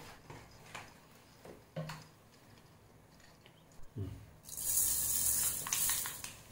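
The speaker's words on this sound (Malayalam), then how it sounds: "1 സ്പൂൺ വെളിച്ചെണ്ണ ഒഴിച്ചു കൊടുത്താൽ മതി." Coconut oil heated in a pan for a cucumber moru curry starts to sizzle loudly after a few quiet clinks and taps, a bright steady hiss rising in the last seconds.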